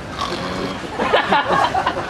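A voice imitates loud, grating snoring at a hash house gathering, a rough snorting, pig-like rasp running steadily for about two seconds.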